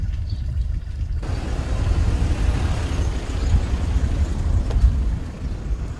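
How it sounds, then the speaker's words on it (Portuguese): Car noise rumbles steadily from a close engine, a deep continuous drone that swells slightly midway and holds at a loud level for several seconds without any talking. "O barulho do carro."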